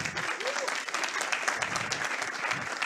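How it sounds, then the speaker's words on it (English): Audience applause at a BSides Berlin 2022 security conference talk welcoming a speaker, a steady dense wash of many hands clapping throughout, moderately loud and continuous. "Round of applause."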